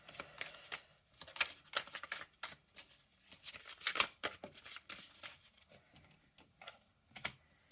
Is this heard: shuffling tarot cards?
yes